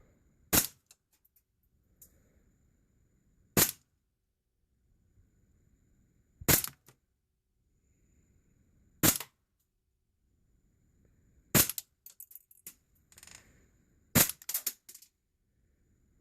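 Six sharp, loud single shots from an HPA-tapped airsoft rifle during a test, spaced a few seconds apart with quiet handling noise and faint clicks between them.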